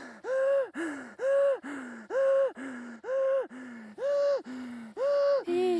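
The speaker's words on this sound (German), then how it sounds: "Ich schnaufe." A person after hard cycling effort panting heavily, seven loud rhythmic gasping breaths in a steady cycle, close and alone.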